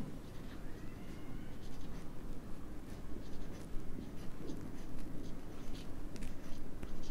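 A pen scratches across paper as an accounting ledger entry is written, producing a close, continuous scratching with small bursts of strokes and no voices.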